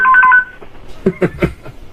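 A hotline telephone gives its special ring: a short burst of bright electronic tones, followed by a few faint, clipped sounds in a quiet room.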